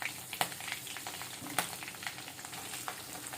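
Chillies crackle in hot tempering oil for an Andhra brinjal, tomato and egg curry, a steady soft sizzle broken by a few sharp pops.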